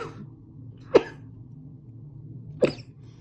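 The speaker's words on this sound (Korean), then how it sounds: "지금 기침을 했어요" Two short, sharp coughs about a second and a half apart, with quiet room background in between.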